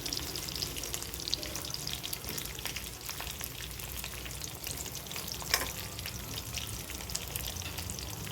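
Okra sizzles and crackles steadily in hot oil in a home kitchen, a dense, even frying hiss close by with a few louder pops and occasional stirring, no voices.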